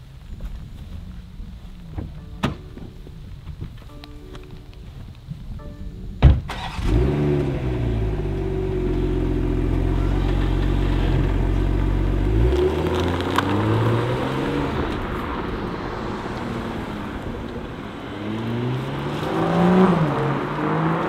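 A BMW M240i xDrive Coupe engine fires up with a sharp start burst, then settles into a steady, loud idle and pulls away, revving and accelerating on a rainy road with no talk.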